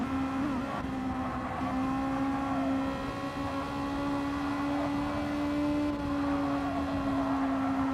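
Honda Civic race car in a racing video game on Tokyo Expressway South, engine holding a steady high drone with a strong tonal whine and harmonics, slight pitch shifts as it carries speed, continuous and close.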